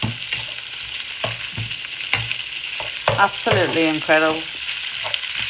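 Minced meat frying in a pan, a steady sizzle with scraping stirs at irregular intervals, close and loud, and someone briefly speaks over it.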